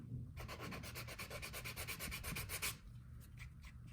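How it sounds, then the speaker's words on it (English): A sandpaper block rasps quickly back and forth along the edge of a leather cardholder, a rapid run of even scratchy strokes that stops partway, leaving a quieter pause with a few light scrapes. "apply the sandpaper"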